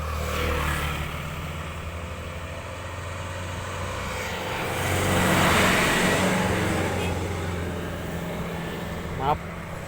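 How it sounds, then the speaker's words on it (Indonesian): A car engine swells and fades as a vehicle passes nearby, over steady background hum, with a brief click near the end. "ada mobil lewat."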